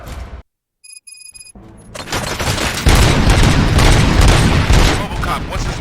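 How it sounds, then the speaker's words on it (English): Gunfire in the video game Robocop Rogue City, set in a theater: a sudden loud burst of rapid shots and booming impacts after a brief silence, continuing as a dense, sustained barrage with muffled voices underneath. "Gunshots? What's going on?"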